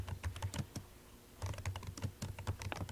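Fingers type rapidly on a computer keyboard, producing close, quiet clusters of clicking keystrokes with a brief pause before the typing resumes.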